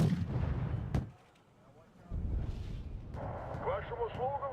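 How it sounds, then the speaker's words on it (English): Artillery firing in the strategy game Wargame: Red Dragon, heavy booming shots and rumbling impacts in a quiet battlefield mix, with a sharp crack near the start and someone talking over parts of it. "They are definitely going to fire artillery at that."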